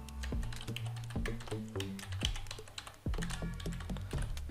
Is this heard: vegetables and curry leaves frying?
no